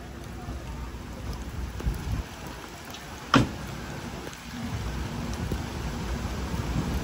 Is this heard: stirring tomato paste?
no